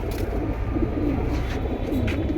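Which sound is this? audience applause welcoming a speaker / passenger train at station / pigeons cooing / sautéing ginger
pigeons cooing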